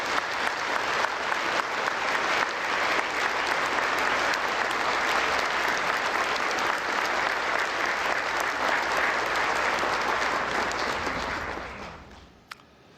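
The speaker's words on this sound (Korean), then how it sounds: "윤석열 대통령 뜨거운 박수 부탁드립니다." Sustained, dense applause from a large audience at a national prayer breakfast welcoming the president, loud and even for about twelve seconds before tapering off abruptly.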